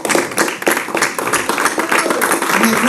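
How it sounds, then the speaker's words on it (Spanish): A church congregation claps rhythmically and loudly together as an offering of praise during a Spanish-language worship service. The sharp, dense claps repeat steadily throughout. "Le regalamos una ofrenda de palmas al Señor."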